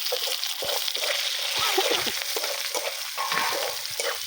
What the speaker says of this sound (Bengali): এবার আমি পেঁয়াজ কুচি দিয়ে দেবো, ক্যাপসিকাম দেবো,